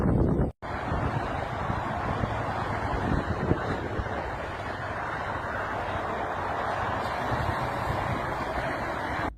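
Strong wind roars steadily during a windstorm sweeping Kansas and Colorado, with gusts near 100 mph, a loud broadband rush with microphone buffeting, briefly cutting out near the start.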